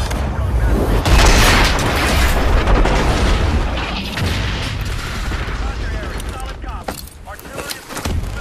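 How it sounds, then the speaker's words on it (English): A military aircraft in Call of Duty: Advanced Warfare comes in hot for a rough landing with reverse thrusters, giving a loud continuous roar with heavy booms and rumbling impacts throughout. "Coming in hot. Gonna be a rough landing."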